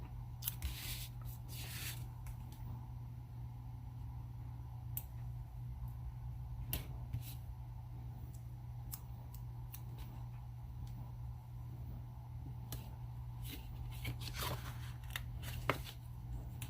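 Scissors snip through sticker paper for a recipe book cover, with a series of short, sharp, irregular cuts close by over a low background hum and no talking.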